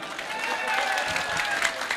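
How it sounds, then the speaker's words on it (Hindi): Applause from the crowd at a Hindi comic poetry gathering, a brief, steady wash of clapping with a voice carrying over it throughout. "एक बार बजाओ ताली"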